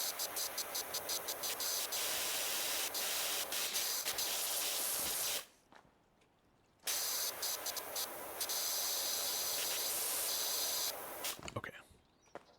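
Pressure washer spraying in the video game PowerWash Simulator 2, a steady loud hiss of water jet that cuts out for about a second midway, then resumes and trails off at the end, with a voice talking over it at times.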